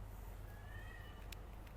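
A single faint, drawn-out cat meow, rising and falling, heard against steady low background hum in an indoor room.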